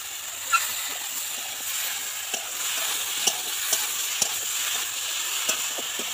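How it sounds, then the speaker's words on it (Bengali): Vegetables sizzling in a pan with salt and turmeric, a soft continuous frying hiss punctuated by scattered taps and scrapes of stirring. "নুন হলুদ দিয়ে সবজিগুলো কষা হচ্ছে।"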